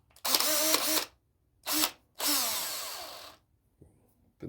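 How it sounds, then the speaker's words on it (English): A power drill fitted with a small sanding drum sands wood in three short bursts. Each burst whines up as the motor spins, with a buzzing grind against the wood, and brief silences fall between them. "This little thing for my drill."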